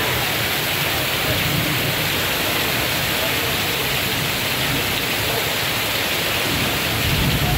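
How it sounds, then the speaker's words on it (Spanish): Torrential downpour of giant raindrops in Puerto Viacamo roars as a dense, steady wash of heavy rain, loud and unbroken throughout with no voices. "realmente está lloviendo muy duro."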